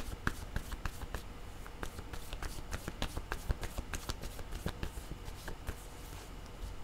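Tarot cards shuffle in quick, crisp riffling bursts and flicks, close and fairly soft, one card drawn amid the rapid rhythmic slaps.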